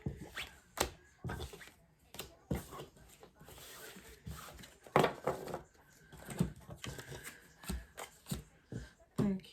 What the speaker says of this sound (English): Okay, so I'm gonna put these cards away.